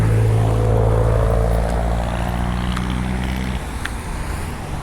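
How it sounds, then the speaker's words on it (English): Road traffic on a busy holiday day: a loud, close engine drone with a steady low hum that passes by and cuts off sharply after about three and a half seconds, leaving fainter background noise. "it's the April holidays and there's fucking traffic everywhere"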